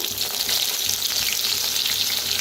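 Green chilies fry in hot oil in a pan, giving a loud, steady, dense sizzle that holds without a break from start to finish.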